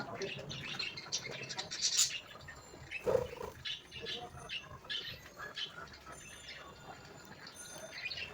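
A restless pet bird squawks in short sharp bursts and scratches about its cage, close by, with people talking around it.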